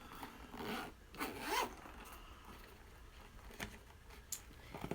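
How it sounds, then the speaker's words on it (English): A zipper on a GoGo essential oil carrying bag is pulled open in several short raspy bursts with pauses between them, close and quiet, with no talking. "So when you unzip it,"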